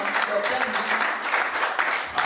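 A church congregation bursts into dense, continuous applause for a man, many hands clapping close and loud throughout, with voices cheering mixed in.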